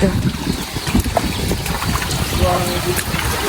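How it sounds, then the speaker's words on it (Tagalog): A swollen river runs fast and hard behind the spot, a loud, churning wash of water with gusty wind noise, while a person talks over it close by. "Malakas po ang pasok ng tubig dito sa likod."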